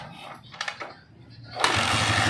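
A Honda TMX155 motorcycle engine, freshly repaired crankshaft, starts up and runs with a loud, steady rattling idle close by, following a few brief knocks and a quieter stretch before it catches.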